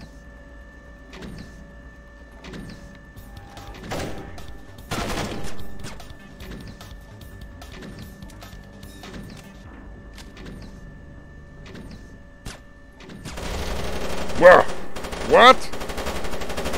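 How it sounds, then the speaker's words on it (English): Gunfire in the stealth video game Splinter Cell: a run of sharp single shots at steady intervals over a low mechanical hum, then a denser, louder burst of rapid fire near the end, with a short spoken word in between. "A gun."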